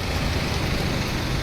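Heavy rain pouring steadily under a dark, overcast sky, a dense, even hiss with low rumble throughout and no voices, loud and constant for the whole stretch.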